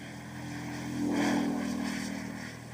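A crop-duster aircraft passing overhead makes a low, steady propeller drone with a faint hum. It swells briefly as it nears, then eases off, heard from a distance with no voices.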